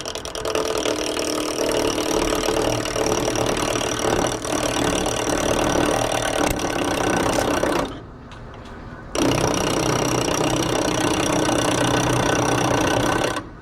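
A wood lathe running steadily with a dense, buzzing mechanical drone and rattling texture as a tool cuts the spinning wood, briefly dropping to a quieter hum before resuming at full strength.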